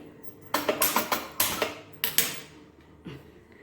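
A pot of milk is set down on a gas stove in a home kitchen, giving a cluster of sharp metallic clanks and knocks followed by a few scattered, quieter clinks.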